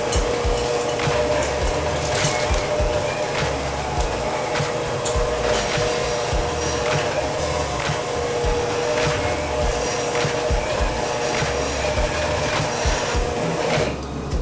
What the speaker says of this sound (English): Okay, the dough is stuck in the mixer.